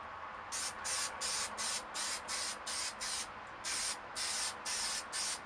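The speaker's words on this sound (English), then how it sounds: "Get a good amount of spray glue up on the top." A can of spray glue hisses in a rapid series of short bursts, close and steady, with no voices.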